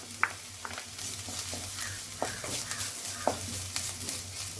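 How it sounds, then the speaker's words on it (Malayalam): Chopped onion sizzling in hot ghee in a pan for a restaurant-style curry, a steady close frying hiss with occasional clinks and scrapes of a stirring utensil. "നെയ്യ് ചൂടാകുമ്പോൾ നമുക്ക് സവാള അരിഞ്ഞത് ഇട്ട് കൊടുക്കാം."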